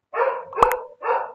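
A dog barks twice, close and loud, with a short gap between the two sharp barks.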